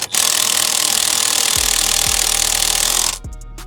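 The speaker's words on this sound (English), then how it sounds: "I am going to use my gun to kind of help me here to see if I can't get it to catch threads" Pneumatic impact gun spinning a ball joint bolt on an FL5 Civic Type R, a steady loud whir with a few rapid hammering bursts, then it cuts off near the end.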